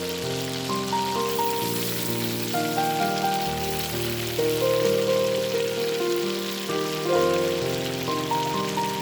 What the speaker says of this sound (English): Sauté until translucent.